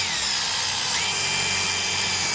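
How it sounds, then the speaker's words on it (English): A power drill runs steadily and close by, pre-drilling holes in an RV roof to mount a ladder, its continuous whine filling the short stretch without pause. "we can pre-drill the rest of these holes"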